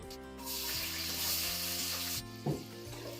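Onions frying in hot oil inside a pressure cooker for a boneless mutton and potato gravy, a steady broad sizzle running throughout, with a brief clatter of stirring near the end.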